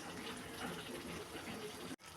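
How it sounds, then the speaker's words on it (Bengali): Water pours steadily into a pot of pointed gourd curry, a continuous splashing rush that stops abruptly near the end. "ঝোল দিয়ে দিব।"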